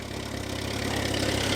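A Renault 4CV's small water-cooled inline four idles while warming up, a close, steady low putter with an even pulsing rhythm, no voices over it.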